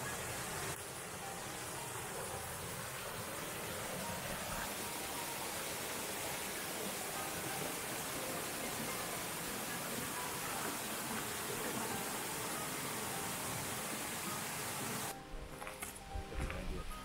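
Buttermilk Falls waterfall roars as a steady, dense wash of rushing water, loud and unbroken throughout, with a slight shift in the sound near the end.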